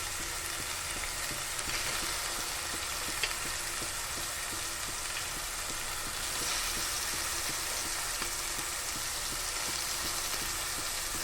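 Prawns frying in a pan, giving a steady, even sizzle that runs unbroken for several seconds with faint crackles and no voices.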